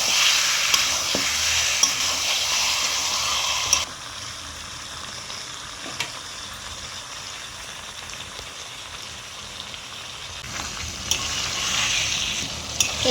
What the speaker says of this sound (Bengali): চিকেনটা ভালো করে কষিয়ে নিতে হবে।